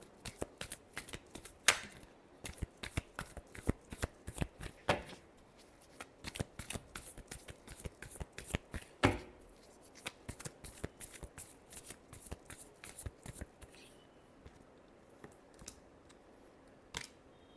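Tarot cards are shuffled close up in a long run of quick, crisp riffles and flicks, irregular in rhythm and fairly quiet, with no talk over them.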